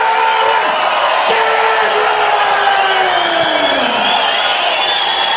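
A large boxing crowd roars and cheers continuously as a heavyweight fighter is introduced, a dense, steady wash of noise with a few shouts rising above it.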